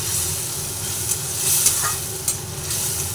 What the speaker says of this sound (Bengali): জল দিয়ে আবার একটু মশলাটাকে ভালোভাবে কষিয়ে নেব